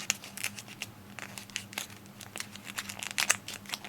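Paper being folded and creased for an origami spiral flower: close, crisp crinkles and rustles in irregular bursts, with sharper crackles toward the end.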